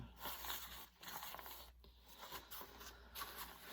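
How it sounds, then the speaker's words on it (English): A close nylon zipper on a Stone Island Skin Touch nylon jacket rasping back and forth in several quick pulls, scratchy and uneven, with no talking. "So it has a zip."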